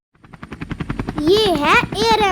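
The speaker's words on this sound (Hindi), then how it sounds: "ये है एयर एम्बुलेंस, जिसे हम हिंदी में कहते हैं हवाई एम्बुलेंस।" An air ambulance helicopter gives a quick run of rapid rotor chops that build in loudness, quickly giving way to a voice speaking over it.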